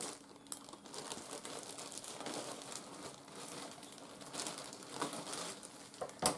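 Someone opens the plastic package of a shade cover, producing close, irregular bursts of crinkling and crumpling with a few sharper rustles near the end.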